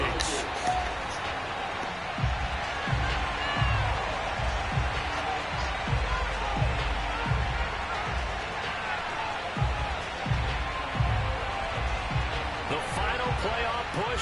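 Stadium crowd noise from an EA Sports NFL video game, Washington against the Minnesota Vikings, makes a constant broad roar with repeated dull thumps, held at a moderate level throughout.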